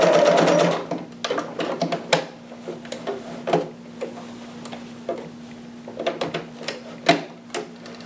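A home sewing machine stitches a seam and then backstitches, producing short bursts of rapid mechanical ticking with a steady motor hum, starting and stopping in quick irregular runs at close range.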